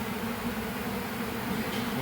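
Honeybees buzz steadily during removal of a hive built inside a trailer in Auburndale, Florida, a dense, continuous drone that stays close and even throughout.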